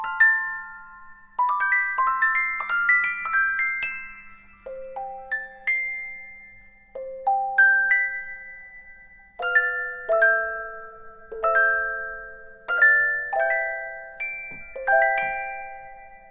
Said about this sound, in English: We have the Spitfire music box,